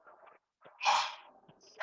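A single sneeze, sharp and close, rising out of quiet breathing and brief murmurs before a softer breath afterward.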